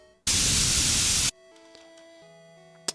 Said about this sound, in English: Let's try this last computer duster bit, and let's go ahead and listen to this on its own.